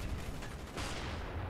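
Shotgun fire in the Black Ops 1 video game, a quiet burst of gunfire amid dense, noisy game sound, with a sharper report near the middle of the clip.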